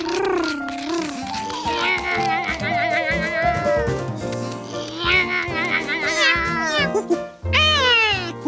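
A cartoon cat meows repeatedly in a children's animated show, its rising and falling calls sitting close and loud over a busy music and effects bed.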